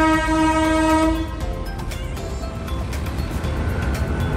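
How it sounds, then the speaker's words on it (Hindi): A train crosses a railway crossing near Rampur, its horn blaring loudly for about a second before giving way to the steady rumble and clatter of the passing cars close by. "रेलवे क्रॉसिंग पे रुकते हुए ट्रेन क्रॉस कर रही है"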